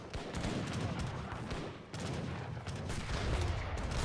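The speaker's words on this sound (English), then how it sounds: "Mortar's coming in here from the back." Booming artillery-style fire from mortars during a large Age of Empires III battle, dense overlapping explosions and gunshots rolling continuously, loud and close with no pauses.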